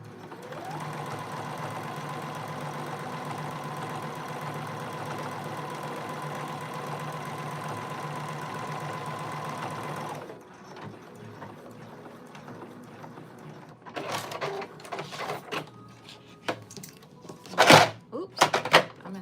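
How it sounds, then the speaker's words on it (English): A sewing machine stitches a 3/8-inch seam in a steady whirring run for about ten seconds, then stops, followed by scattered handling clunks and knocks. "I'm just gonna stitch it at 3/8."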